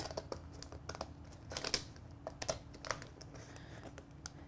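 A peel and stick tile sheet is cut by hand, close irregular snips and crackles of the thin vinyl sheet in quick bursts with short gaps in between.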